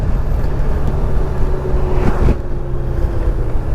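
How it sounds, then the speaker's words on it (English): A 2020 Honda Goldwing motorcycle downshifting while slowing to a stop, its engine drone dipping and shifting under heavy wind rush close to the microphone, a brief rise in the middle marking the gear change. "I'm going to check out that downshifting again, because I am coming up here to a stop"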